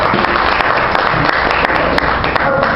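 A comedy show audience responds with applause, a short, dense burst of clapping filling the room at steady loudness.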